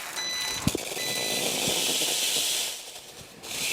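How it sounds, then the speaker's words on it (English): Steam wand on a Wirsh Home Barista Plus espresso machine purging, a strong continuous hiss with a couple of sharp pops at the start, then tapering and dropping off near the end. "Most of the water comes out with the first blast, and now I'm ready to steam"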